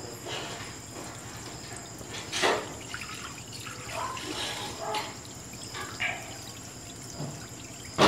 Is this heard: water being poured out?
yes